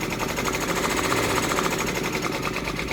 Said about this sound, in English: This is going to be 8 minutes of stitching.